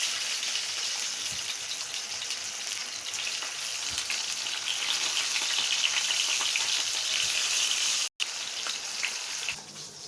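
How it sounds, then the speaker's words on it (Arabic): Potatoes and eggplant frying in hot oil on an Egyptian breakfast stove, a steady close hiss and crackle of sizzling that runs throughout with only a momentary break. "هنرمي البطاطس، وادي البتنجان يا حبايبي هنقليه اهو برضو"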